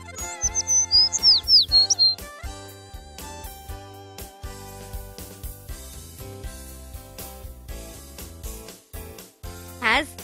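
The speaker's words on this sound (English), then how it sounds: "Sparrow." A sparrow chirps in a quick run of bright, high tweets at the start, over a busy musical background.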